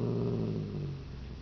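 A dog growls in a low, continuous rumble, close and fairly loud, fading slightly toward the end with no talking over it.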